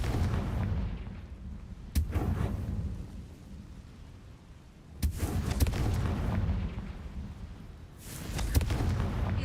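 The Confringo fire spell from the video game Hogwarts Legacy lets off three heavy, booming blasts a few seconds apart. Each blast has a sharp crack followed by a rumbling roar that fades away.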